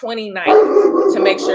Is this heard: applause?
no